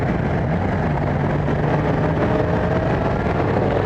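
A Yamaha FZ-07 parallel-twin motorcycle rumbles steadily while being ridden around 4,000 RPM, a constant, loud low drone mixed with wind noise, with no talking.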